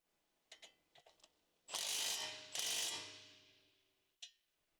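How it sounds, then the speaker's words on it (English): A wrench tightens the lower control arm ball joint bolt on a 2015 Ford Escape. There are a few faint ticks, then two loud ratcheting pulls, then a single sharp click. "Tighten the mounting bolt connecting the lower control arm ball joint to the knuckle."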